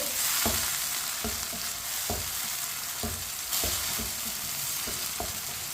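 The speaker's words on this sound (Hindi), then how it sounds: "अब टमाटर को भी 2 मिनट के लिए पका लेंगे चम्मच चलाते हुए" Finely chopped tomatoes and green chilies sizzle in a pan, cut by a steady series of spoon scrapes and taps against the metal roughly every second, with no voices.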